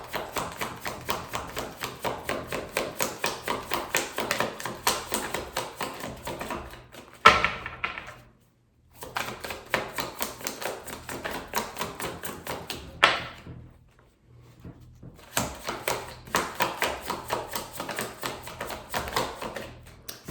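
Tarot cards are shuffled in quick rapid riffling bursts, close and crisp, with a few brief pauses and taps between rounds.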